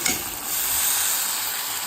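Garlic paste being stirred in a pan for Cajun shrimp, a steady close scraping and sizzling frying sound that holds for about two seconds without talk.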